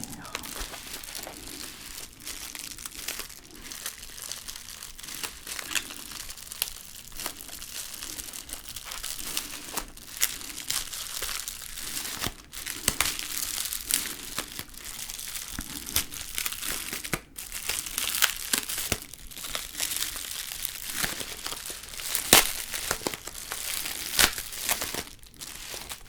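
Pokémon card packs being opened up close, with crisp plastic crinkling and tearing in irregular bursts over about half a minute while a voice talks quietly over the handling.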